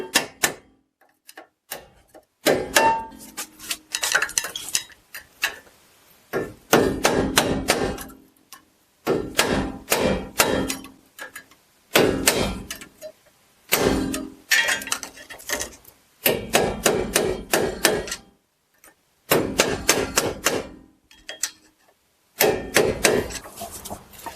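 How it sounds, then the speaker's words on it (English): A hammer strikes a stuck rear brake caliper on a 2004-2011 Ford F-150 in bursts of sharp metallic knocks. The clusters of rapid hits are separated by short silent pauses. "just give them a couple hits like that and it should break it loose"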